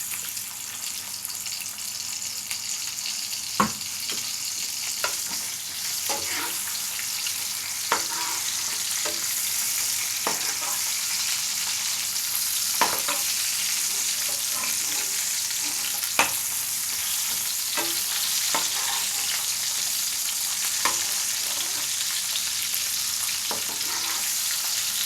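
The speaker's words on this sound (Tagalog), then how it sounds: "ipapray muna natin yung ating white onion" Chopped white onion fries in oil in a pan, a steady loud sizzle with occasional stirring scrapes and clicks of a utensil, no voices over it.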